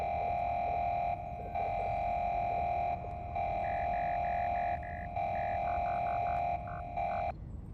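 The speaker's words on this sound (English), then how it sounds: "Basically just a lot of beeps." Electronic beeping in Helldivers 2, steady tones broken into rhythmic on-off pulses like Morse code, with shorter higher blips layered on top, all faint and continuous against a low background hum.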